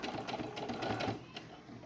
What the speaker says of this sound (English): So I just sewed backwards, and I'm gonna sew forward again.